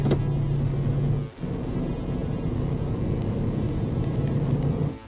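A lorry pulls out of a quiet motorway service station onto the M6, its engine a steady low drone with one brief dip in level partway through, no talking.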